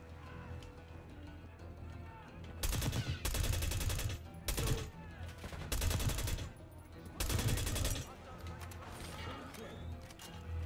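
Video game gunfire in Call of Duty Black Ops 6, heard as several dense bursts of rapid shots lasting about a second each, spaced through the clip over a steady low game background.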